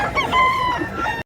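A rooster crows once at a gamefarm in Mantalungon, Cebu, a drawn-out call with a rough rising-then-falling contour, fairly close, over faint background murmur.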